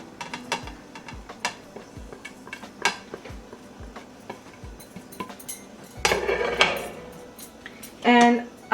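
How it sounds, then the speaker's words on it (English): Spices for a lamb leg marinade stirred together in a bowl, a utensil scraping and clinking against it in close, irregular taps, with a louder rattling stretch and a brief sharp clatter near the end. "Just mix all the spices together."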